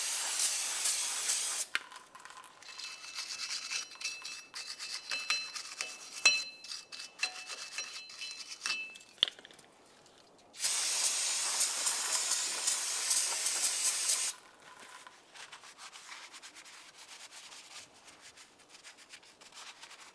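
Parts cleaner hisses out of an aerosol can in two loud, sustained spray bursts onto the axle end of a 1998-2002 Lincoln Navigator, with scraping and rubbing from a wire brush on the metal mating surface between and after the sprays.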